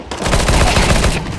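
A P90 submachine gun fired on Dust 2 in a CS:GO deathmatch, heard as a loud, rapid automatic burst of closely spaced shots that cuts off abruptly after just over a second.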